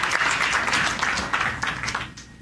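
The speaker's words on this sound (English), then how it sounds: "Let's give a round of applause." Audience applause at a property networking event in Soweto, a steady wash of many hands clapping together that fills the room for a couple of seconds, then gradually thins toward the end.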